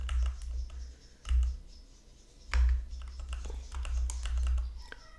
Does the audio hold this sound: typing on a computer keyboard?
yes